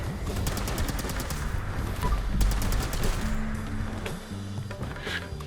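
Rapid bursts of gunfire in the Fallout 76 video game, dense automatic shots rattling continuously over a busy background of game noise.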